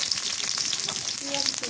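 Whole cumin seeds hit hot oil in a pan and crackle in a dense, close sizzle for a village-style fish and spinach curry, with a faint brief voice near the end.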